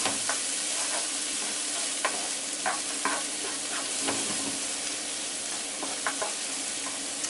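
Rice being coated and fried in oil in a pan, a constant bright sizzle with intermittent clicks and scrapes from stirring, close and alone.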